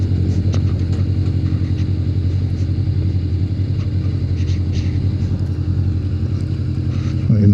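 Motorcycle engine idling with a steady low rumble as the bike is brought in to park near a harbour, continuous and close throughout with no talk.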